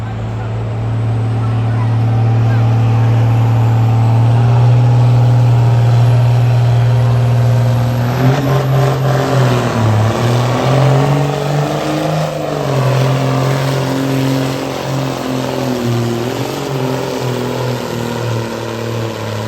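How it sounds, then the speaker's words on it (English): At a county fair truck and tractor pull, the pulling vehicle Charger spools up its engine with a loud, sustained deep droning roar whose pitch dips and rises midway, heard close and continuous throughout. "Again, spooling up the Charger."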